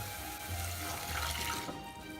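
Water pours steadily into a soup pot with the garlic for a Soviet soup, a continuous close splashing rush with no talking over it.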